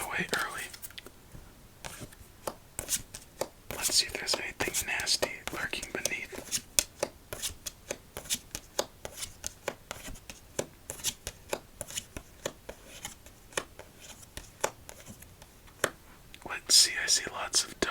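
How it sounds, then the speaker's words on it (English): Thick playing cards from a Raven Deck are riffled in a quick casino shuffle, close and crisp, giving a burst of sharp snapping flutters and taps under soft whispering throughout. "on to a casino shuffle fairly quickly"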